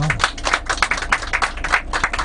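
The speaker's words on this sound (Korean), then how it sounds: "시아에게 박수 한번 부탁드릴게요." A small group claps on a tour bus in Laos, a quick uneven patter of hands close by, lasting a couple of seconds.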